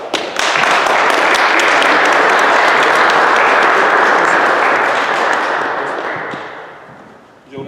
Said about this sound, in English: Clap up.